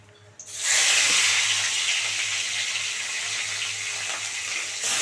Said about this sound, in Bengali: দেখো সব একদম এরম করে ভেজে নেবো সুন্দর করে।